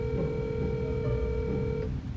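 A phone ringtone plays through a car's connected audio system, a steady electronic tone sustained for about two seconds over the low hum of the car interior.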